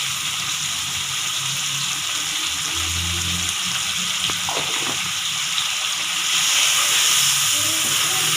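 Cumin seeds sizzle in hot oil while making red bean pulao, giving a loud, steady hiss that rises slightly toward the end, with a few faint clinks and no talk.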